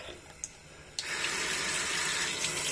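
A bathroom tap bursts on after a few faint clicks and runs in a steady, loud, close stream of water for rinsing the mouth while brushing teeth, alone without talk.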